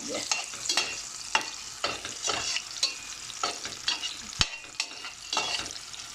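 Peppers frying in a pan give off a continuous crackling sizzle, broken by frequent clinks and scrapes of stirring, close up with no voices.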